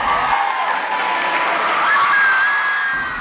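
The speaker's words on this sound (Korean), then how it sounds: "관객들의 열광적인 함성 소리를 들을 수 있었습니다" An audience at a K-Pop festival cheers and screams after a b-boy crew's performance, a loud, sustained roar with shrill whoops rising above it that swells and holds for the whole stretch.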